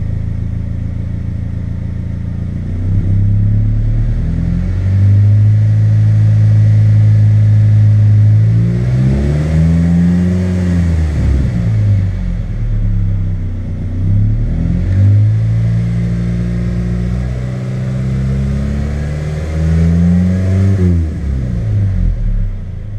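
A black Suzuki X90's engine is given gas in repeated revs, rising and falling in loud surges over a steady close idle, with no talk.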